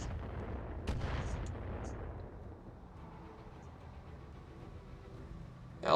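A mortar fires in a BattleTech video game: a sharp thudding report near the start followed by a decaying rumble and quieter distant background, with another burst at the very end.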